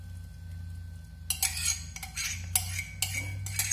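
After a quiet start, a utensil clinks and scrapes against a bowl as gluten-free bread dough made with cornmeal, starch and sweet tapioca flour is stirred, giving short irregular knocks at close range over a low hum.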